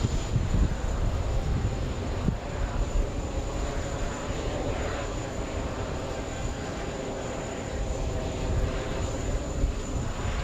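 A JetBlue airliner on its takeoff run at JFK airport gives a steady, loud broadband engine roar that holds evenly throughout, with a constant high whine above it.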